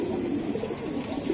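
Black giribaz pigeons coo at a bird market, low soft rolling calls overlapping close by with no talk.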